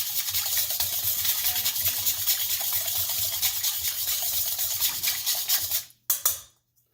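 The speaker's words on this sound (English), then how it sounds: "I'm going to whisk it just for a second here to help get that all into suspension" White table sugar is whisked briskly into a sourdough bread mixture, a steady close scraping swish that runs for about six seconds, then stops with a couple of light knocks against the bowl.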